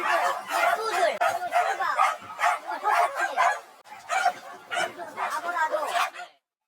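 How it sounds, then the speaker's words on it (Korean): Many dogs of various breeds bark and yip in a rapid, overlapping chorus on raised wire cages at an unlicensed breeding farm of about 220 dogs, loud and continuous, with a narrator's voice running over the din. "뜬장 위에 다양한 종류의 개들이 있습니다"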